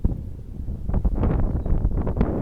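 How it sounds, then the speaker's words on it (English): Low, blustery rumbles of wind buffet the microphone in uneven gusts, muffled thumps swelling and fading. "Again, it's kind of windy, so I apologize."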